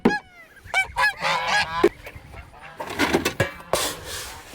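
Farm geese honk loudly and repeatedly at feeding time, their calls overlapping in a close, busy chorus with brief rustling between bursts.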